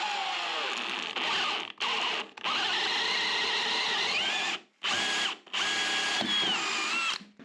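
A power drill fitted with an Irwin speed bore bit chews through a wooden stud in loud, sustained bursts of whining, grinding bite, stopping briefly twice before finishing, with no talking.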